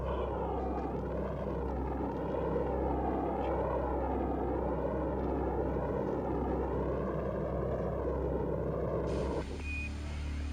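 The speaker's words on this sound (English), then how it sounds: "10, 9, ignition sequence start" Apollo 11 Saturn V rocket engines igniting at launch, a loud, steady, dense roar with deep rumble that holds unbroken for about nine seconds before abruptly giving way to a different, thinner noise at the end.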